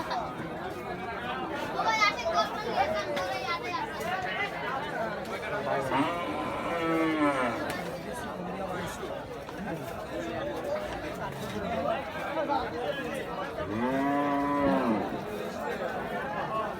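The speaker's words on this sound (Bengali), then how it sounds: "মিডিয়াম থেকে একটু বড় গরু।" At a busy Eid cattle market in Fatullah, cows give a few drawn-out moos, one near the start and a louder one toward the end, under constant crowd chatter and talk.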